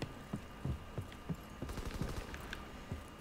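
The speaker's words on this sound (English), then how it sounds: "There is some gunfire over there" Distant video game gunfire from Call of Duty: WWII online multiplayer, near the docks, pops in an irregular series of sharp shots, some in quick bursts, fairly faint against a steady background.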